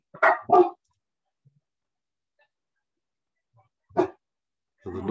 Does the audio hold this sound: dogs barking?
yes